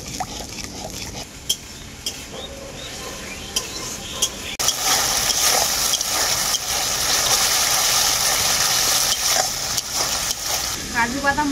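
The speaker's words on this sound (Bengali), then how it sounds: "কাজু বাদামটাকেও আমি খুব ভালো করে মশলার সাথে কষিয়ে নেব।" Cashew paste cooking down with spices in a pan for a vegetarian aloo dum, a low sizzle with occasional stirring scrapes that turns into a louder, steady frying hiss about halfway through.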